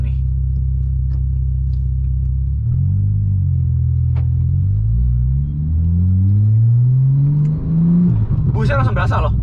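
A Stage 2 Porsche Carrera 4 GTS with a manual gearbox rumbles at idle, then accelerates with its pitch climbing through gear changes; a voice speaks briefly near the end.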